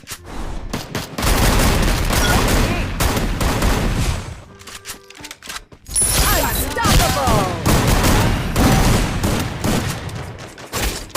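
Rapid gunfire from the Free Fire battle royale game, dense bursts of automatic shots and explosive booms crackling loudly, a brief lull midway, then renewed heavy firing with faint voices beneath.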